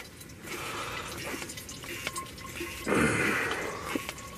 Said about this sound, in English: I'm filtering some water right now